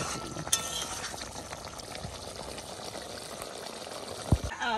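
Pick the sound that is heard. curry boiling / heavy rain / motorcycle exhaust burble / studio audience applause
curry boiling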